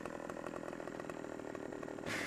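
A chainsaw in the Farming Simulator 17 video game cuts into a tree, its steady buzzing engine drone running continuously at close range before a brief louder burst of cutting noise at the end.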